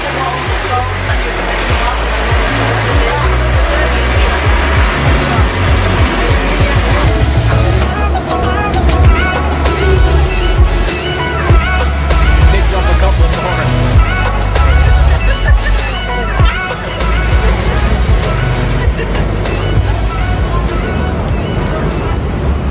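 A truck drives along a road near Baños, Ecuador, carrying passengers and their bikes, giving a steady loud engine rumble and road noise with rattling throughout, under people talking.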